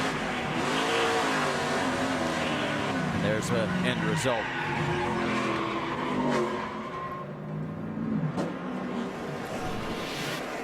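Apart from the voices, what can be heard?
NASCAR race cars racing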